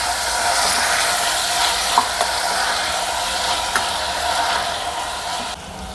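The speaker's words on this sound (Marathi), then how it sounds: "या कोवळ्या कोवळ्या शेंगा याच पद्धतीने असं तेलामध्ये भाजून घ्यायच्या आहेत।" Tender cowpea pods are fried in oil in a pan, with a dense, continuous sizzle broken by a few faint utensil clicks. No one speaks.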